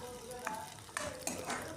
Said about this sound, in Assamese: পিঁয়াজখিনি ৰঙচুৱা হোৱালৈকে ভাজিছোঁ।